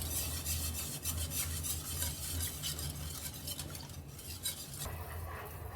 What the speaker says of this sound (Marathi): याला छान असं ढवळून घ्यायचं